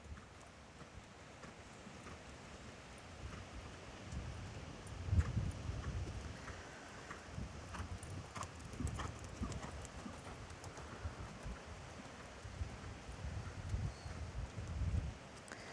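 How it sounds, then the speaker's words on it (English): Horse hooves moving from canter down to trot in a riding arena, soft rhythmic thuds heard at a distance over light wind. "if you could ride a circle in the canter and then forward to trot"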